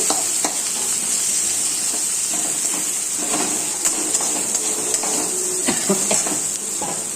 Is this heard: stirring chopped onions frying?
yes